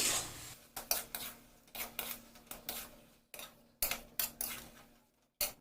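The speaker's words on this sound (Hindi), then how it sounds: "अब इसे हमें भूनना है।" A spoon scrapes and knocks repeatedly against a pan while chana dal mixture is stirred and roasted, a sequence of short close metallic scrapes with brief pauses between them.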